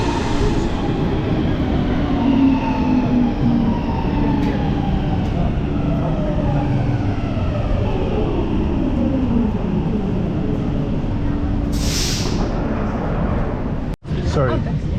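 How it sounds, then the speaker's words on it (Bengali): A train pulling into a station in Helsinki, Finland, heard as a loud, sustained rumble with rising and falling tonal whines and a brief hiss near the end, while a person talks over it. "এই যে আবার আরেকটা ট্রেন আসছে"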